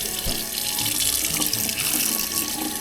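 Water runs steadily from a sink tap, a continuous close splashing stream with no voices.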